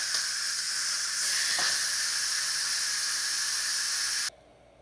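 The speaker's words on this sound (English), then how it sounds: "now we're going to do the quick release of the steam." Steam hisses loudly and steadily from an Instant Pot quick pressure release after cooking mussels in white wine garlic sauce, sharpening briefly partway through, then cutting off abruptly near the end.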